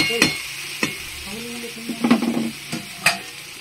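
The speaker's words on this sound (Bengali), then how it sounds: "সুন্দর করে কষিয়ে নেবো আমি।" Rohu fish curry being sautéed in oil in a pan, with a few sharp stirring scrapes and clatters over a low, soft sizzle, heard close up and without talk.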